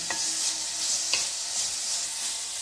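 Ingredients for dragon chicken sizzle in a hot pan while a spoon stirs them, scraping through in short rhythmic strokes. The frying is close and clear with no voices over it.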